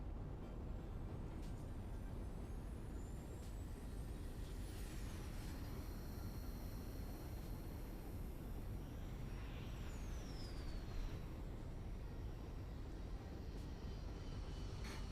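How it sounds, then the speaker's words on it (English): A video-game drone in flight hums with a steady, dense whirr over broadband engine-like noise. Thin high tones sweep across it, and no voices are heard. "Oh, I'm flying the actual drone."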